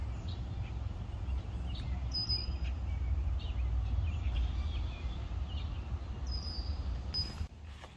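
Birds sing and chirp in a Scarborough, Toronto neighbourhood, with scattered high calls over a steady low rumble of outdoor background noise. A brief louder disturbance comes near the end.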